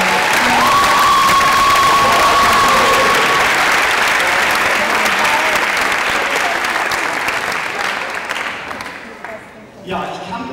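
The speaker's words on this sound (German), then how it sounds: "Das finde ich ist auch nochmal einen besonderen Applaus wert" Loud, sustained applause and cheering from a crowd at a German sports youth closing ceremony, a dense wash of clapping lasting several seconds before tapering off near the end.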